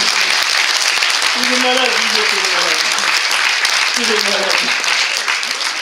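A crowd at a French comedy show breaks into sustained, loud applause, with a voice chanting over the clapping.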